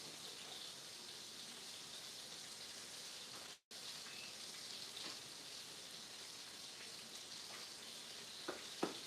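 Butter melts and sizzles in a pan on a stove while pork chops are being cooked, making a steady, soft hiss of fine crackling that runs on alone and is broken by a short gap near the middle.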